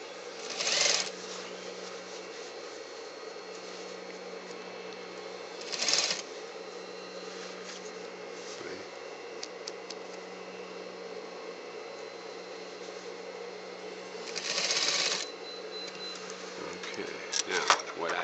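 A sewing machine stitches back into an opened shoulder seam of a tailored jacket, a steady close whirring hum running without pause, with a few brief louder shuffles and clicks now and then.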